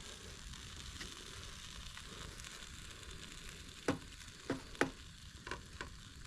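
Rice with teriyaki sizzling faintly in a pan on low heat at a riverside camp, a quiet steady hiss broken by a few sharp scrapes and clicks near the end.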